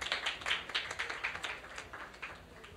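Applause at a 2021 awards ceremony, a quick run of sharp claps from what sounds like a small audience, steady and fairly faint over its short length.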